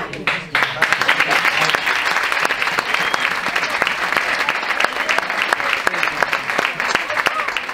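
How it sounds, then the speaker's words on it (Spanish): A festival crowd in Albelda de Iregua gives loud, close applause with crisp individual claps standing out in a steady round, and voices can be heard underneath. "por favor, un aplauso de todo el público"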